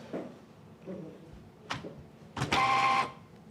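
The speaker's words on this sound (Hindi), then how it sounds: "अगर इसको केबल को हटा दोगे या इसको हटा दिया ना केबल, जी जी और इस प्रिंटर को हम ऑन करेंगे तो क्या आवाज करेगा?" A printer being switched on with its cable removed, giving a few faint clicks and knocks, then a louder half-second mechanical whirring buzz close by, as from an error state.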